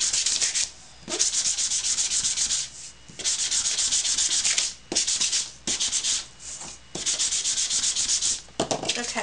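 Sanding a paper bag insert, with repeated bursts of dry, raspy rubbing in long strokes broken by short pauses. The sound is close and steady.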